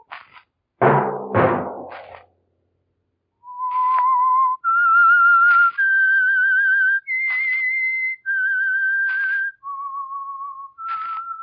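The whistled theme tune of The Whistler radio program: clear, sustained notes stepping up and down, heard alone after a couple of short noisy bursts at the start.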